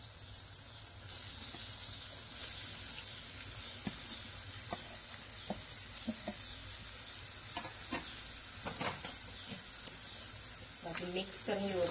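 Boiled jackfruit hits oily masala in a pan, giving a steady soft sizzle with scattered stirring scrapes and clinks, fairly quiet, with a few louder taps near the end.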